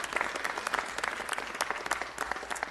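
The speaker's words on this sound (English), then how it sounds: "Big round of applause for the folks around me who brought films made here in Hollywood" Applause from an audience at a Los Angeles city council meeting, a dense steady patter of many hands clapping across the whole stretch, moderately distant and fairly quiet.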